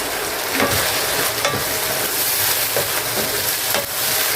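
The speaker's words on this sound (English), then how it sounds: "Then you add 1 seasoning cube and stir it." Yam sauce with a seasoning cube is stirred in a pot over the heat. A constant close sizzle runs underneath, with the spoon scraping and clacking at irregular intervals.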